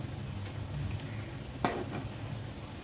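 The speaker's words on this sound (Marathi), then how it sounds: "हे बघा आपण तळून घेऊ शंकरपाळ्या गॅस मोठा करू" Shankarpali deep-frying in hot oil gives a soft, continuous bubbling sizzle, with a single brief clink of a utensil partway through.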